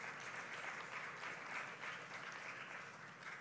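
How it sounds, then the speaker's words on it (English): A church congregation applauds its volunteers, a dense, steady wash of clapping from many hands that holds at an even level throughout with no voices on top. "can we just give a round of applause for all the volunteers?"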